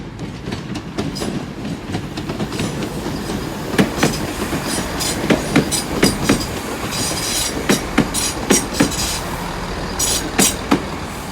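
A Class 166 Turbo diesel train, unit 166219, runs through Exeter St David's station with a continuous rolling rumble and repeated sharp clickety-clack wheel beats over the rail joints, close and fairly loud.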